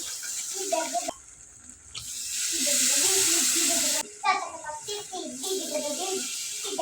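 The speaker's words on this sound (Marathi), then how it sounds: "त्याच वाटीनं तीन वाटी पाणी टाकायचं आहे यात" Water pours in a steady stream for a second or so into a pan of semolina, between stretches of someone talking, with a short splash near the end.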